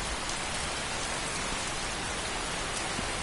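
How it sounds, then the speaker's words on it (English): Steady rain falls in the Skyrim wilderness, a dense, even hiss of drops pattering on surfaces with no other sounds. "it's raining and it's kind of annoying"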